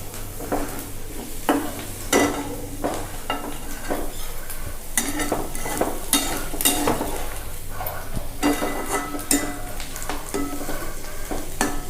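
Dry fish and green chilli chutney frying in a pan on a gas flame at medium to high heat, with a steady sizzle and repeated scraping, clinking stirs of a utensil against the pan throughout.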